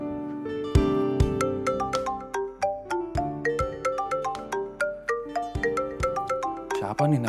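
A phone rings with an incoming call early in the morning, a bright repeating melodic ringtone pattern playing steadily and clearly, close and alone with no voices over it.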